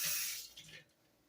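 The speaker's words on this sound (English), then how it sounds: "this is all the water that I'm going to add." Water poured into a pot of frozen chicken, a brief splashing pour that fades quickly and is heard alone.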